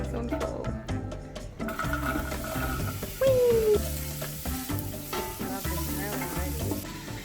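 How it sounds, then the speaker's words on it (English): Chicken in olive oil in a pot on full heat, making a constant close sizzle with some stirring, while music with a melody plays over it. "we're gonna add all of this into a pot and let it simmer with some olive oil and the chicken"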